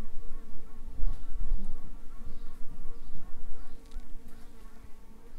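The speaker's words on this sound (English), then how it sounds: "You hear that peeping noise? That's a virgin queen that's in here." Inside a honeybee hive holding a virgin queen, a steady close buzz of many bees fills the air, with faint high tonal piping threaded through the drone; no voices.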